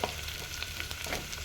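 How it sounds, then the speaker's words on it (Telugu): Coconut rice cooking in hot oil, a steady sizzle and frying hiss with scattered crackles and a few stirring scrapes, close and continuous. "ఆయిల్లో బాగా ఫ్రై అయ్యేలాగా చూసుకోవాలి."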